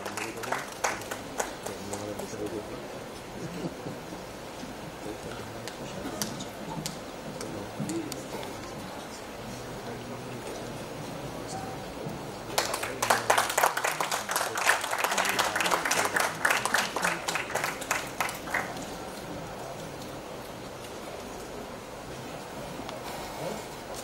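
An audience at a Balasaheb Thackeray birth anniversary event claps in scattered bursts amid background murmur, then breaks into a loud, full round of applause for several seconds before it fades back to quiet chatter.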